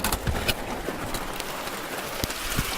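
Rain falling outdoors around a Chevy K1500 pickup truck, a steady hiss with scattered close drops and taps, no talk.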